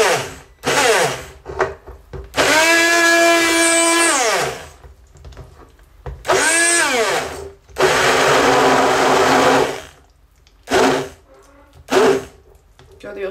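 A blender whirs in several bursts while mixing homemade soap, its pitch rising and falling as the motor speeds up and slows, with short pauses between runs.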